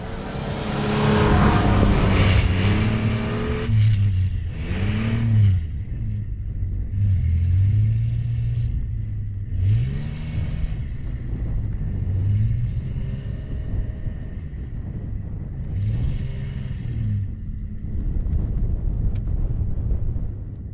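Car engine revving hard as it pushes through a deep snowdrift in blizzard conditions, a loud continuous rumble rising and falling in repeated surges with whining pitch sweeps as the wheels spin.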